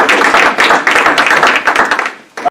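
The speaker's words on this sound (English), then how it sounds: "another big round of applause for him" Audience applause for a guest speaker at a speakers series event, dense overlapping claps running steadily for about two seconds before fading out, with a brief stray clap at the very end.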